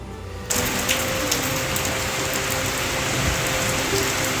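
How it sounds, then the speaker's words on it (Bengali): Steady rain pours down in an even, dense hiss with scattered drops tapping on surfaces, starting abruptly and continuing without speech. "আজকের এই বৃষ্টিটা তো ভীষণ ঠান্ডা করে দিল ওয়েদারটাকে একদম"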